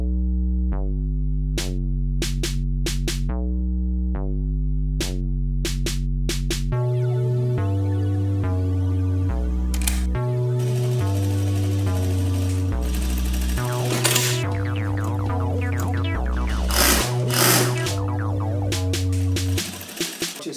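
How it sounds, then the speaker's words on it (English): A sewing machine stitches a sweatshirt sample, its motor humming steadily in shifting pitches as it speeds up and slows, with rhythmic needle clatter running throughout and no talking. "this is a video about how I'm stitching a sweater, making some new samples"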